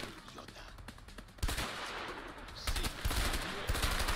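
Burst-fire gunshots in the video game A Way Out, clusters of sharp cracks and booming hits with a louder burst near the middle and more bursts following, with a voice faintly underneath.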